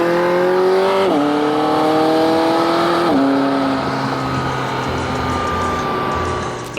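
A 2018 McLaren 570S Spider engine revs hard and close, pitch climbing through two sharp upshifts before holding a loud, steady roar that eases off at the end.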